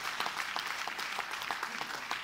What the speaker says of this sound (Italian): Un applauso dal pubblico